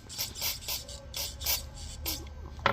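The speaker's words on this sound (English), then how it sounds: "you want to make sure the jets spray and all the holes are spraying like carburetor cleaner" Carburetor cleaner sprayed through the jets of a Yamaha Trailmaster carburetor during a rebuild: several short, close hissing bursts in quick succession, with faint background noise between them.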